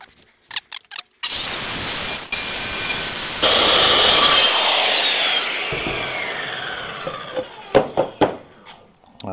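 A power saw cuts through a cargo box panel for a Ford F150 truck camper, a loud sustained whine lasting several seconds, with rising pitch as the blade bites, framed by handling knocks before and after.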